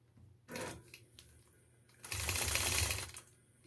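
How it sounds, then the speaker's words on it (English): A sewing machine stitches in two short bursts while machine quilting with a ruler, a brief run followed by a louder, steadier run of rapid needle strokes, close by and with no talk over it. "Okay, so now you'll stitch across here just a little bit."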